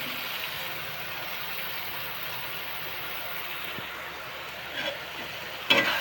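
Onion and tomato frying in a pan with salt, a steady soft sizzle throughout, with a brief stir or clatter near the end.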